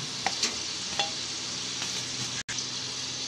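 Chicken and vegetables spiced with red chilli, turmeric and dried coriander, being stirred in a pan for a Pakistani dish. A steady frying sizzle carries a few light spoon scrapes and knocks, with a brief dropout near the end.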